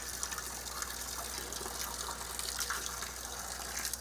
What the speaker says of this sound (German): Aus diesem Schlauch kommt das einzige Wasser, umgeleitet vom Bach.